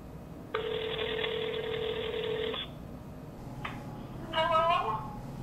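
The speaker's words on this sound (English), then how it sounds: "I'm dialing her digits." A phone call being dialed: a steady electronic tone holds for about two seconds, then after a short pause a brief chirp sounds, followed by a warbling ringing burst near the end, all fairly clear over a quiet background.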